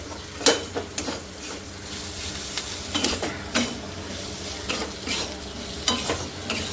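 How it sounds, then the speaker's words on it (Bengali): Meat, likely goat, sizzles in a pan with spices while a spatula scrapes and knocks against it in repeated stirring strokes, close and steady. "মিট মশলা দিয়ে আমি ভালো করে নেড়ে নিচ্ছি"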